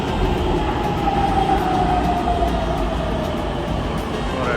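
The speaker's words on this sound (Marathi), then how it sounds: "ही आहे पुणे मेट्रो" A three-coach Pune Metro train pulls into the station with a loud, steady rumble and a rising electric whine, close by, with no speech over it.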